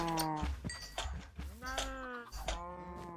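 Several Minecraft cow moos in quick succession, mid-pitched and somewhat faint, with a slightly synthetic, game-like quality and no talking.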